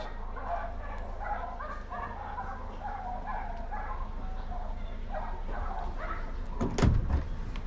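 Dogs bark somewhere in a garden while a hedge is being trimmed, the barks mixed into steady chatter and laughter from several people nearby, with one sharper loud burst near the end.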